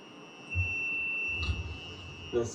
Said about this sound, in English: That alarms for the cord and the antenna.